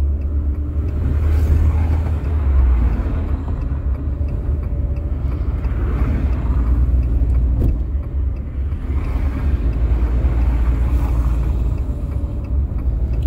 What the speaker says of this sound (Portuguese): existe uma demanda muito grande aqui, nesse momento, atravessando a ponte